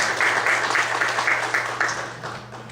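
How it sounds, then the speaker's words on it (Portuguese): A church congregation applauds during a Portuguese-language worship service, a steady patter of many hands clapping at moderate loudness for a few seconds. "Você pode dizer amém e aplaudir ao Senhor"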